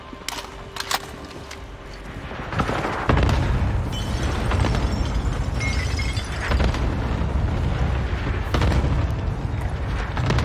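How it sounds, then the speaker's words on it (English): Cluster strike in Modern Warfare, heavy rumbling explosions that swell after a few seconds into a continuous loud barrage of booms and debris, with scattered sharp bursts on top. "Cluster strike incoming. Take cover."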